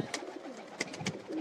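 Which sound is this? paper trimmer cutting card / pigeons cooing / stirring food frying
pigeons cooing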